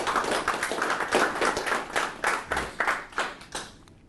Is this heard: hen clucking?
no